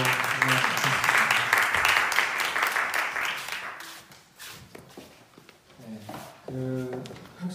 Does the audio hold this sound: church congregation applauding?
yes